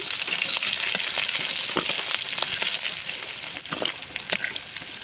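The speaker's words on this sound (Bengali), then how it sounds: "কাঁকড়াগুলো ভাজা হয়ে গেছে, তুলে নিচ্ছি" Crabs fry in hot oil with dense, continuous sizzling and occasional sharper crackles and pops, loud and close, with no talk.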